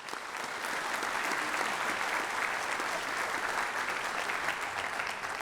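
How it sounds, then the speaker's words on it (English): Sustained applause from a seated audience at a university honors convocation, steady and full for several seconds as new honor society initiates in the College of Communication and Fine Arts are recognized. "Could we please recognize all of the new Honor Society initiates here in the College of Communication and Fine Arts with a round of applause"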